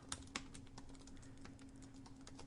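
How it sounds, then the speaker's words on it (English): Quiet typing on a computer keyboard, a loose patter of soft key clicks with a couple of sharper taps near the start, heard at low level over a faint steady hum. "excuse me for a minute while I do some typing"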